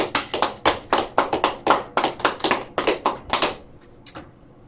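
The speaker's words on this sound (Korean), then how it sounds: "박수하고 축하합시다" A small church congregation claps in a quick, uneven burst of distinct hand claps during a Korean Sunday worship service, close and fairly loud, fading out after about four seconds.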